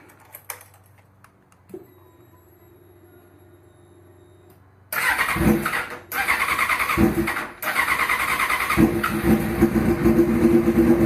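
A Suzuki GSX-R sport motorcycle engine starts with a sudden loud catch after a quiet stretch of faint clicks, then runs at a steady, close, rough idle with brief dips and revs.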